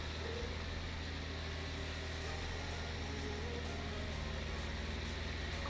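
A small 3-cylinder tractor engine in Farming Simulator 19 drones steadily while climbing hills on a farm map, its low even hum continuous and fairly close throughout.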